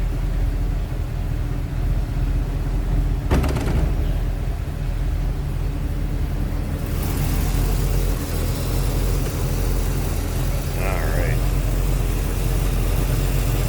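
A small block V8 in a 1961 Chevrolet Corvette convertible idles with a steady low rumble, close and continuous, while someone talks over it.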